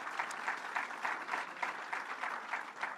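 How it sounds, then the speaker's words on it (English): A crowd at a paid family leave rally on Long Island gives a round of applause, heard as fairly faint, rhythmic clapping with soft pulsing swells over the whole span. "Let's give him a round of applause."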